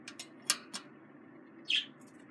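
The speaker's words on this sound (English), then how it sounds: "It's a fancy Budgie." A fancy budgie in a cage gives several short, sharp chirps close by, a few quick calls early on and one brighter call near the end, over a quiet room.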